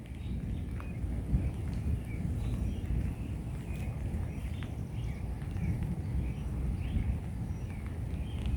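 Low rumbling thunder in an outdoor rain thunderstorm, a continuous deep roll with steady rain and a few faint bird chirps above it.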